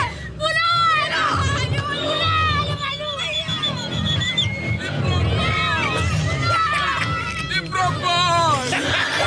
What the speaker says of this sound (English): you can hear him shouting from afar, trying to catch up